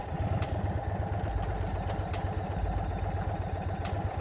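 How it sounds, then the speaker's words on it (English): A MY22 Indian Chief Dark Horse motorcycle engine idles with a steady, low rhythmic thump and clatter, running evenly throughout with no talk over it. "So you can switch it on again."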